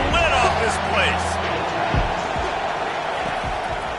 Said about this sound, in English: this crowd is tearing the lid off this place